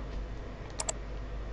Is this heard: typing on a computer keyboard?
yes